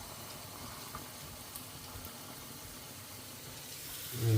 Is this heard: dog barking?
no